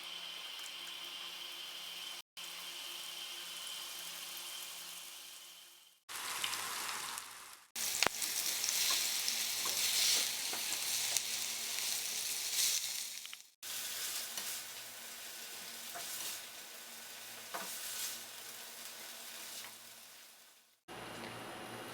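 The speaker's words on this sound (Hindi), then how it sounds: "बाकी चिकन भी इसी तरह पका लेते हैं।" Chicken pieces fry in hot oil in a pan, a loud continuous sizzle that breaks off at brief pauses and then comes back, close and with no talking.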